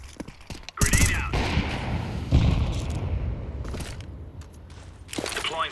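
A grenade blast in a shooter game, a heavy booming thud followed by rumbling debris and scattered gunfire-like crackles, with game voice lines over it.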